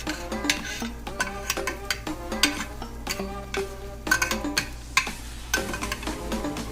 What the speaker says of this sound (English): Put some on the top side, and then you flip it.